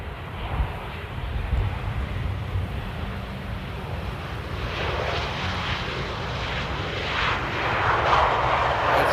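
Fixed-wing airliner arriving on the Polderbaan runway at Amsterdam Airport at sunset, a steady broadband jet roar that swells gradually toward the end as the aircraft draws nearer, with no voices.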